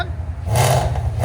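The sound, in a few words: Ford Mustang GT 5.0L V8 revving with headers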